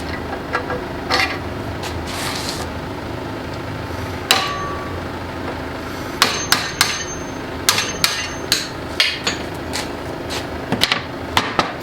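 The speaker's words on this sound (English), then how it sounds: "that is how you press out these sleeves or knock out these sleeves here" Metal hammer blows knock out suspension bushing sleeves from the rear knuckles of an S13 240SX, a series of sharp, loud strikes in irregular clusters over steady workshop noise.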